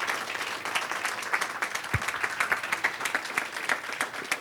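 A conference audience applauds the panelists after a discussion session, with sustained, even clapping from a moderate-sized crowd running continuously throughout.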